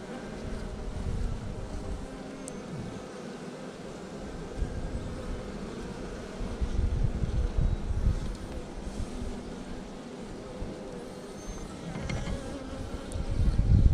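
A swarm of package bees buzzes steadily around a hive during installation outdoors in Central Texas, a continuous close hum with light wind noise and occasional handling knocks.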